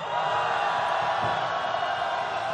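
Protest crowd at a candlelight rally raising a sustained, loud collective shout and cheer, a dense wall of voices holding steady throughout with no single speaker standing out.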